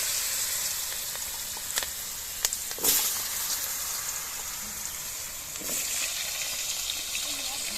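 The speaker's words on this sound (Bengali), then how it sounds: "মাছ ভাজার তেলে আলুগুলো ভেজে নেব।" Potatoes frying in the oil left over from frying fish for a Bengali fish curry, a steady broad sizzle throughout with a few sharp crackles and spatters, close and fairly loud, no talk.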